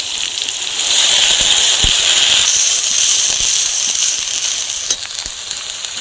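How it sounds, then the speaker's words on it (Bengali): Palta leaf paste frying in hot oil, a loud, close, continuous sizzle with a steady hiss and scattered small pops and crackles throughout. "সেই পলতা শাক বাটাটা তেলের মধ্যে দিয়ে দিতে হচ্ছে"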